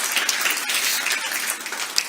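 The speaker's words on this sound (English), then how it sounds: "A big round of applause." An audience at a sports ministry announcement claps in a dense, sustained round of applause, loud and continuous, with occasional sharper individual claps standing out.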